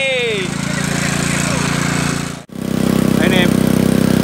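An old engine-driven water pump in a garden plot, drawing water from a river, chugs loudly and steadily nearby, its rhythmic putter briefly interrupted midway, with a voice speaking over it.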